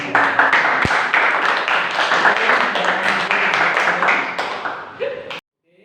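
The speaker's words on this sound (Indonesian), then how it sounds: "Tepuk tangan untuk kelompoknya." A classroom group claps for classmates after a role-play lesson on shrouding a body. The applause is loud, close and brisk, with dense overlapping claps that run for about five seconds before stopping abruptly.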